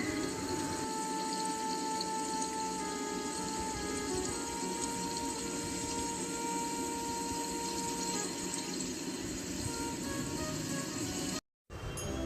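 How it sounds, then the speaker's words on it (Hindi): A waterfall pours over a rock above the cave shrine at Jhariya Mahadev temple, a steady, dense rushing that fills the whole stretch without a break until a brief dropout near the end. "झरना गिरता है।"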